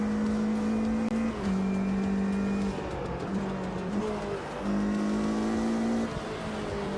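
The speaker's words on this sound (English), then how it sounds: "That's one downshift instead of two" A race car engine in the Automobilista 2 racing sim drones loudly and steadily, its pitch stepping down and back up through gear changes over a continuous roar.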